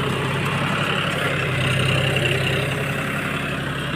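A baler tractor engine idles steadily close by, a constant low drone with no change in pitch or level.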